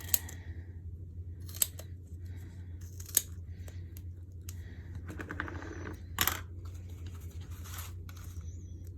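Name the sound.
scissors cutting strips of foam tape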